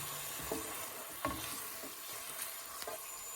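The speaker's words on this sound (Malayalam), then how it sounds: "തയ്യാറാക്കി വെച്ചിരിക്കുന്ന സോസ് ഒഴിച്ചു കൊടുക്കാം." Sauce poured into a pan with sesame oil, garlic and capsicum, faint steady frying hiss throughout with a few soft scrapes of a spoon, quiet and close.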